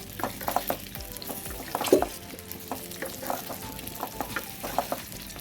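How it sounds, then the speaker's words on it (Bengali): Spices crackle and sizzle in hot oil for olive pickle, with irregular stirring taps and scrapes in the pan, moderately loud and close. "তেলটা গরম করে তেলের মধ্যে দিয়ে দিচ্ছি"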